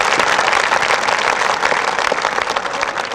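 An audience at a Hindi kavi sammelan poetry gathering at an engineering university applauds: a thick, sustained wash of many hands clapping, loud and continuous for the whole stretch, with no talk over it.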